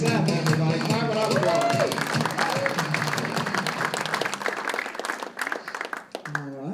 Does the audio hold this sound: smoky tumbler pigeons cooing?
no